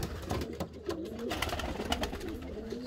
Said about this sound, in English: Got a big aviary out there